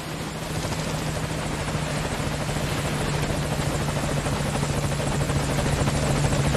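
A helicopter in Metal Gear Solid 5: Ground Zeroes arrives with a loud, steady rotor thrum and engine whine that grows slightly louder over several seconds, with no talk.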